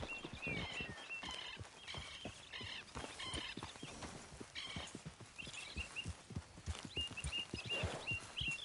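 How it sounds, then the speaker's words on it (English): Horse hooves clip-clopping at a steady walking rhythm on open ground in Red Dead Redemption II, a continuous close series of hoof strikes with faint birds and ambient game sounds behind. "Grab your horse and let's go."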